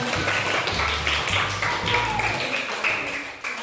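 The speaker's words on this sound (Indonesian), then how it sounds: "Tepuk tangan dulu untuk siapa?" A class of students clapping together in a classroom, giving several short rhythmic bursts of group claps over a low steady hum.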